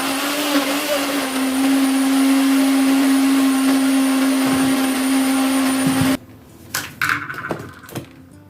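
Electric blender whirs loud and steady with a high motor whine while mixing an avocado and mayonnaise hair mask, then cuts off abruptly, leaving a few quieter clatters and knocks.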